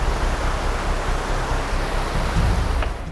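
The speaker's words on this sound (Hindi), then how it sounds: "एक गहरा नाला मिला। पानी की धार भी तेज थी।" Fast-flowing water of a deep forest stream in dense jungle, a steady broadband rushing wash, close and fairly loud, with no voices.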